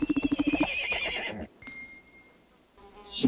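A horse neighs in the Barbie Dreamhouse Adventures video game at the stables, a loud rapid whinny with pulsing trills, followed by quieter tonal game effects and a soft chime.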